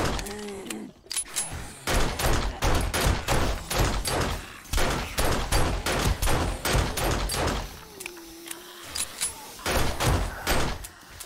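Rapid gunfire in the survival video game Desolation 2, loud bursts of close repeated shots in quick rhythmic volleys with brief pauses, sounding alone.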